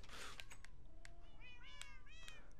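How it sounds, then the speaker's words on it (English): Cats in a cozy video-game cat cafe give several short, high meows in quick succession, fairly faint against a steady low background hum. "There's so many cats."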